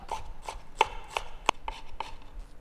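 A knife chopping shallots on a cutting board, a series of crisp, fairly close taps in an uneven rhythm, with two sharper, louder strikes standing out.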